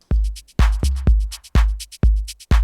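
A soloed electronic drum track programmed on an Ableton Move groovebox plays a steady pattern of deep booming kicks alternating with crisp hi-hat and snare hits, loud and dry with no voices.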